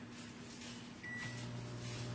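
An Alexa-enabled microwave oven starts up in a kitchen, with a short beep followed by a faint, steady low hum as it begins running.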